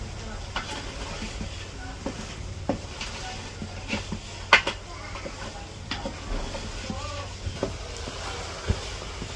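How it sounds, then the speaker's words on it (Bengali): Beef with spices is stirred and fried in a pot for a village-style curry, with a soft continuous sizzle under repeated scraping strokes and occasional clanks of the utensil against the pot. "এখন তো মশলা দিয়ে দিছে আমি একটু ভালো করে কষিয়ে নেব"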